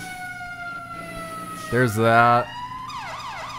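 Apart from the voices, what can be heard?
fire truck siren in a video game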